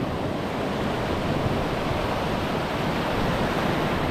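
Ocean waves surge around a small boat at sea in a loud, continuous wash of surf, with wind buffeting the microphone and no break in the roar.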